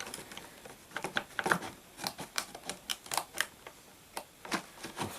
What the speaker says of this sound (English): I'll just cut into the plastic a little bit.